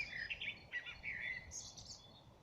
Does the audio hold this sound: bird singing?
yes